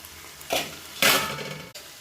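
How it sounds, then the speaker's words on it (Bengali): Lid lifted off a pot of simmering potatoes and fish in a Bengali kitchen, with short clattering metal scrapes and a burst of sizzling steam, two quick bright bursts close by and no talking. "আবার আমি ঢাকাটা খুলে দিচ্ছি।"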